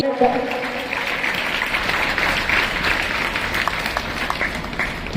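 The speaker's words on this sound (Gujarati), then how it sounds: "તાળીઓના ગડગડાટ" Applause from an audience at a girls' school National Sports Day ceremony in Sihor, a dense, sustained wash of clapping heard fairly close, with a voice briefly audible at the start.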